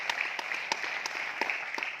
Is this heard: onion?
no